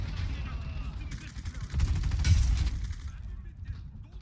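Gunfire in the Battle Teams 2 shooter game, a run of sharp shots with a louder burst in the middle, close and punchy over game ambience.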